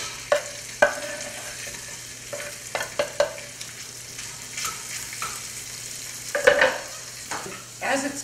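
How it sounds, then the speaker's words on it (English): Chopped fresh shrimp sizzle steadily in melted butter in a skillet, with sharp clinks and scrapes of a utensil stirring against the pan at intervals. "I've melted a little bit of butter in a skillet. And so I'm going to cook the shrimp."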